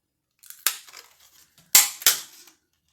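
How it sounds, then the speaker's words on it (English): Three sharp, loud plastic cracks as a hole punch goes through a thick plastic water bottle, with a couple of fainter clicks and crunches between them, close up and isolated. "you want to hole punch some holes in here"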